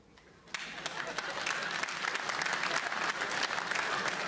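Applause breaks out after half a second and builds into steady, dense clapping from a sizable stand-up comedy audience.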